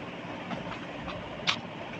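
Train rolling along the tracks in the video game Ice Scream 3, a steady low rumble with faint rhythmic clacks and one brief sharp metallic squeal, quiet and continuous with no voices.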